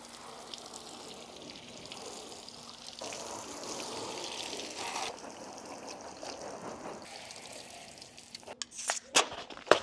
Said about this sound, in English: Time to rinse it off with another very satisfying jet of water.